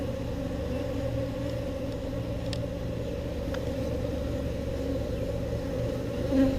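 Honeybees hum steadily around an open hive during a Texas beekeeping inspection, with a dense, continuous close-up buzz and a faint engine drone underneath.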